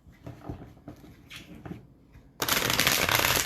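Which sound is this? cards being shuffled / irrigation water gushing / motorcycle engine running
cards being shuffled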